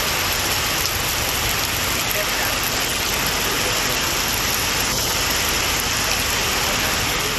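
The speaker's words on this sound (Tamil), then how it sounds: "கொள்ளிடம், வைத்தீஸ்வரன் கோவில், பூம்புகார் உள்ளிட்ட இடங்களிலும் கனமழை பெய்தது." Heavy rain pours down in a dense, constant hiss, loud and unbroken throughout, during a storm with strong wind in Tamil Nadu.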